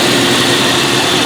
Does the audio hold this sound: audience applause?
no